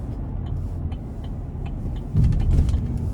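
A 2024 Chevrolet Silverado 1500 Work Truck with a 2.7-litre turbocharged four-cylinder engine hums steadily from inside the cab, then its engine note swells louder as the truck accelerates under throttle.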